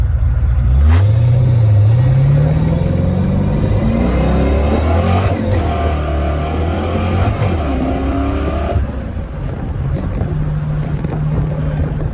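Fox Body Mustang with 4.10 rear gears, an 8.8 rear axle and Moser axles, pulling hard from a launch, its engine revving up through several gear changes, loud and close from inside the car.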